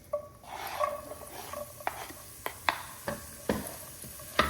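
Onions sautéing in about a third of a cup of butter in a pan: a soft, steady sizzle with occasional sharp scrapes and taps of a utensil against the pan, close by and moderately loud.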